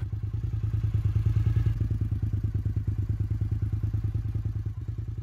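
A Suzuki TL1000 motorcycle engine idling with a lumpy, pulsing rumble, close by and steady, with a slight rev partway through.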